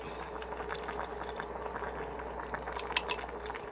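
Niku jaga broth with pork and potatoes boiling in a pot, a steady bubbling simmer with a few light metallic clinks of a spoon near the end, no voices.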